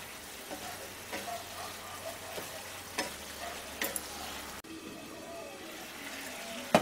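Vegetable masala noodles frying in a pan while being stirred, a steady low sizzle with scattered scraping clicks and taps from the utensil, fairly close and moderate in level, no voices.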